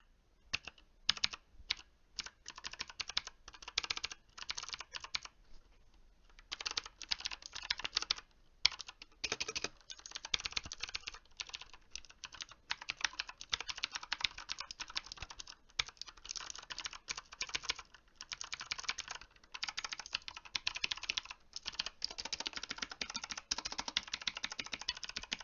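Rapid clacky keystrokes on a budget mechanical keyboard, bursts of fast typing with brief pauses, close and crisp with no talking.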